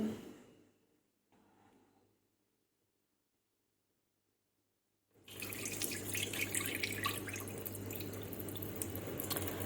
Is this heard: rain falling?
no